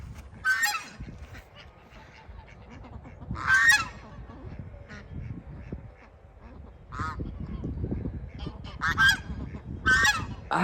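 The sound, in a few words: geese honking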